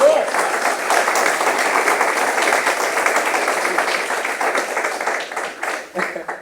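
A crowd applauds steadily for several seconds, dense clapping that tapers off toward the end.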